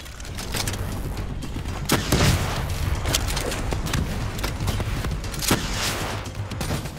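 Gunfire aimed at an enemy in the video game Call of Duty Black Ops 3, with repeated shots and booms over continuous battle noise, fairly loud throughout and with no talk.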